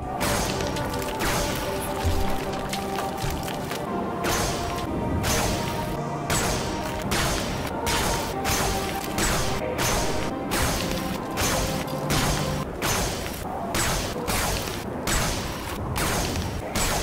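Crystals are smashed over and over in the video game Halo, a long run of loud, sharp crashes and whacks that repeat in a fairly regular rhythm with no speech.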